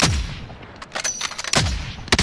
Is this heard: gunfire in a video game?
yes